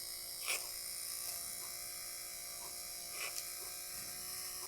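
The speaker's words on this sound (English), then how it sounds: "We have one spinning motor." The small electric motor of a Kenner Knight 2000 voice toy car runs steadily, giving a continuous high-pitched whine and buzz that stays even throughout, with a few faint clicks.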